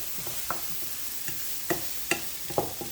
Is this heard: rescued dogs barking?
no